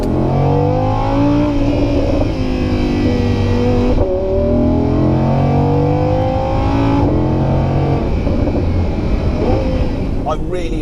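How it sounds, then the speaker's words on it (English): An Audi R8 Spyder V10 Plus with its 602 bhp V10 engine revs hard at close range at Goodwood, its pitch rising and falling in repeated surges with a person talking over it. "you've got direct access to the V10 motor. And I'm going to show you, and you're going to listen to what that sounds like right here and now"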